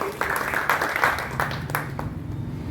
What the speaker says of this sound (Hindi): एक बार जोरदार ताली बजा के